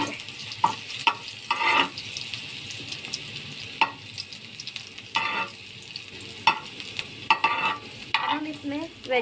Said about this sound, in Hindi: अब हम इसमें जो हमने लहसुन कूटा था हम वो ऐड कर देंगे। इसको हम थोड़ा सा भून लेंगे।